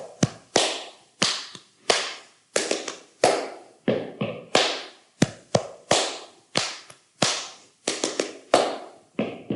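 Body percussion pattern for a We Will Rock You rhythm: sharp hand claps, thigh taps and stomps in a repeating rhythmic sequence, crisp and close, with no talking.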